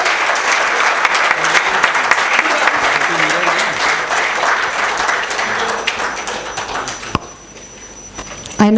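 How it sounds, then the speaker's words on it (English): Audience at a tax conference inaugural session giving a big round of applause after a memento presentation, sustained dense clapping that tapers off, followed by quieter room sound and a brief voice at the end. "Ladies and gentlemen, a big round of applause for Sir."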